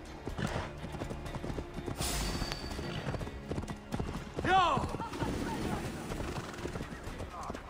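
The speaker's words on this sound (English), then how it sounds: "What are you doing, horse?" Horse hooves clip-clop steadily in Assassin's Creed Valhalla, set in the siege of Paris, mixed with game sounds, a brief whinny midway, and someone talking over the top.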